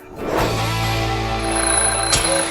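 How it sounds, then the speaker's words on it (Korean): An alarm clock rings in a bedroom in the morning, a steady sustained electronic ringing that fills the clip loudly and continuously with no talk over it. "바보같은 알람 시계."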